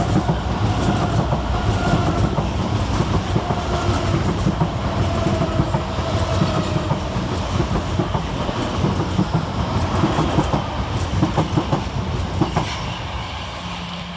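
A Gatwick Express Class 387 multi-unit train, three units long, passes through Preston Park station on the London Victoria to Brighton line with a steady, loud rumble and clatter of wheels throughout.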